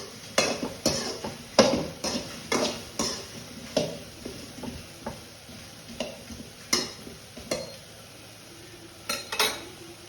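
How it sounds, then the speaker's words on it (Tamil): Okra sautés in a pan for sambar, heard mainly as a spatula stirring and scraping in an uneven rhythm of close clinks and knocks over a faint, low sizzle. "இப்போ வெந்த உடனே இது வெண்டைக்காய் பட்டு வதங்கிட்டே இருக்கும்"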